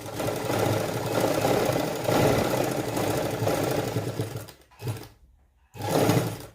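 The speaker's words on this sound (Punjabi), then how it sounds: "ਇਹਨੂੰ ਤੁਸੀਂ ਸਿੱਧੀ ਸਿਲਾਈ ਲਾ ਦੇਣਾ ਇਸ ਤਰੀਕੇ ਨਾਲ ਪਹਿਲਾਂ" A sewing machine runs a straight stitch around a shirt's round neck, whirring steadily and close for several seconds before slowing, stopping briefly, then starting up again.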